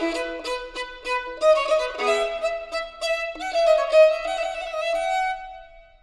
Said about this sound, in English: the notes coming out on the piccolo sound like this